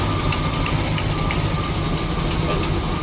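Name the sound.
car engine idling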